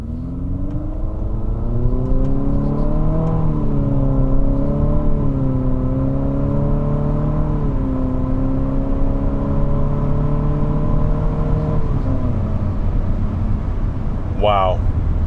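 A 2020 Infiniti QX50 SUV accelerates hard while racing another car, its engine note climbing through several rising pitch sweeps between gear changes, heard steadily from inside the cabin under road and wind noise.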